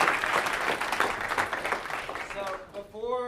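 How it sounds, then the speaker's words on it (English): Audience applause after a talk at a banking AI event, a dense steady patter of clapping through most of the moment that thins toward the end as a voice begins speaking over it. "Let's give Jason a round of applause"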